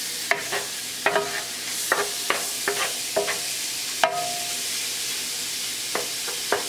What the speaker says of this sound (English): So we're just searing it, breaking it apart